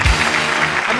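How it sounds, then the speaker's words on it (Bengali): Dense, loud applause from a studio audience on a television comedy show, a brief continuous wash of clapping with no speech over it. "একটা জোরে হাততালি হোক"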